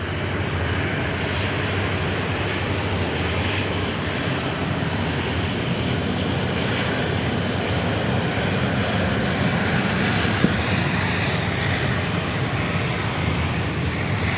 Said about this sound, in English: Is one of the older 737-800s, Victor X-Ray Juliet. Clear for takeoff.